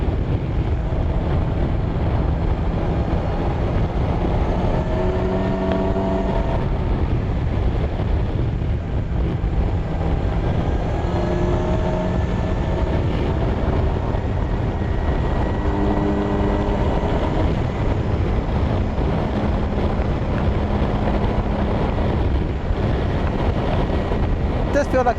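A 2020 Kawasaki Versys 1000 rides along the road, its steady engine drone mixed with heavy wind rush throughout, while a rider talks over it with a few shifting engine tones.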